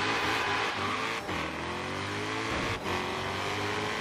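A Ford Mustang GT350R drag races against supercars in Forza Horizon 3, its engine revving hard and climbing through gears with two brief shift dips, a loud, continuous, close racing roar with no talking.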